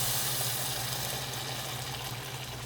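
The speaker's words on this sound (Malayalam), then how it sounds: "ഇനി നമ്മൾ ചൂടാക്കി വെച്ച വെള്ളം ഒഴിച്ചു കൊടുക്കുക" Heated water poured steadily into roasted rava in a pan, a continuous close hissing rush of liquid lasting throughout, with no talking.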